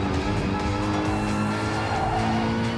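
A car drifting in the racing game Gran Turismo Sport, with a steady engine drone and a sustained tire squeal running throughout at a constant loud level, without talk.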